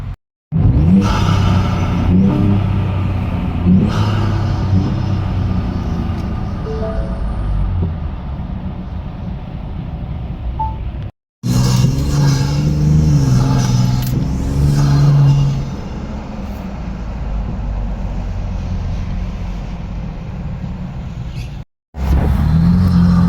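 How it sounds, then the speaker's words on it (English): Dense freeway traffic crawling in a jam after an accident, a steady rumble of car engines with occasional revving, continuous and fairly loud, interrupted by two brief silent cuts. "The traffic jam caused by the accident that day"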